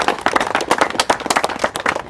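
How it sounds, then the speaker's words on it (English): A small group claps a round of applause during a reality-show gathering, with distinct close hand claps in a quick, uneven rhythm over a couple of seconds. "Round of applause!"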